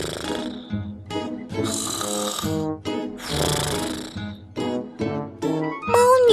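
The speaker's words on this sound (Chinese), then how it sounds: "她一闭上眼睛就打起了震天响的呼噜" Loud, exaggerated snoring for a cat in a children's story, long rumbling breaths repeated in a steady rhythm, close and dominating, ending in a rising whistle-like tone.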